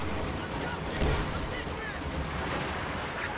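An anti-tank gun fires on a StuG stuck on ice in a World War II strategy game: one heavy, dull boom lands early, set against a constant background of distant battle noise.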